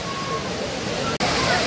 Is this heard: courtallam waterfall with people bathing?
yes